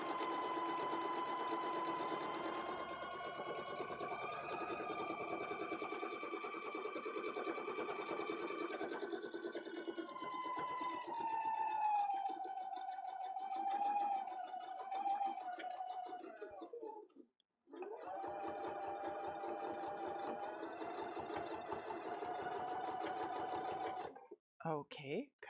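A sewing machine hums and stitches steadily through several thick fabric layers, its motor pitch sliding and straining, pausing briefly near 17 seconds before resuming, then stopping near the end.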